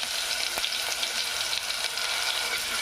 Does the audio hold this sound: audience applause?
no